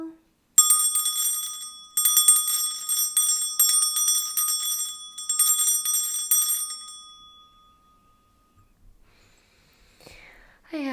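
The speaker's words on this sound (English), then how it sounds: "I'll start with clearing the energy with my bell." A small metal bell rings in several quick bursts of bright, sustained chimes before a tarot reading, fading out and followed by near silence and a faint breathy voice.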